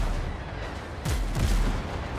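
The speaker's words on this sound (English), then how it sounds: "cannons!" Cannons boom in the pirate survival game Windrose, a couple of heavy low thuds rolling out over a constant noisy background, moderately loud and somewhat distant.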